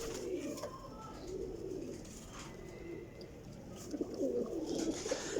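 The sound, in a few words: pigeons cooing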